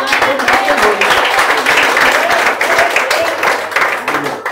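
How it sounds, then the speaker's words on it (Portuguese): A church congregation at an Assembleia de Deus service breaks into loud, sustained applause, dense clapping filling the room with voices mixed in. "Palmas que o louvem e agradecem."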